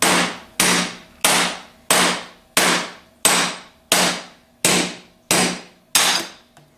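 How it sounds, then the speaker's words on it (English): A hammer taps a bearing out of a Bosch alternator's front plate: ten sharp metallic blows at a steady, slightly under one-second rhythm, each ringing briefly before fading, close and loud with no speech. "now we're going to tap the rear bearing"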